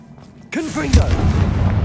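A Confringo blasting spell goes off in Hogwarts Legacy, a sudden loud booming burst followed by a crackling, rumbling tail with a whooshing sweep, after a brief stretch of quieter ambience.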